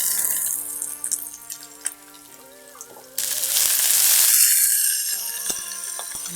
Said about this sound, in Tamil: வெங்காயம் வதக்கிட்டு